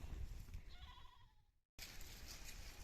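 Sheep bleat faintly from a distance amid rustling outdoor noise, with a brief dropout before a steady wash of ambient sound.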